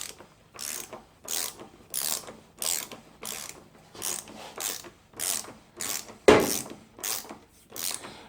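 A ratchet tightens the front axle of a Suzuki GSXR750 motorcycle, making steady repeated clicking strokes in an even rhythm, close and moderately quiet, with one sharper knock near the end.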